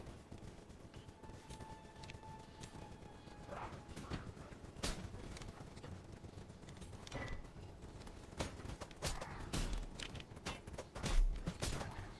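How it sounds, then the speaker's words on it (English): A horse gallops in the video game Elden Ring, heard as a run of sharp hoof thuds and clatters at an uneven pace over a steady rumble of game ambience, with no voices. "So I'm just going to ride my horse up there"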